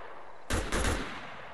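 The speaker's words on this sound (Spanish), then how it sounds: "Un tiroteo a 250 metros contra la IA" Gunfire from a shootout against AI enemies in the video game ArmA 3, a short, loud close burst of two or three rapid shots followed by a fading tail, with no voices.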